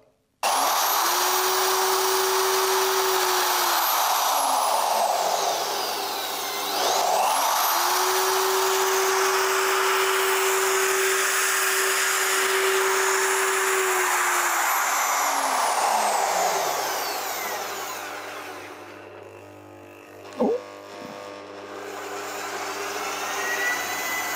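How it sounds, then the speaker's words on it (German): A powerful VEVOR magnetic drill press motor whines loudly, spinning up and dropping in pitch twice as it bites in, then winding down near the end with a clank. "wir machen mal einen kleinen Bohrversuch"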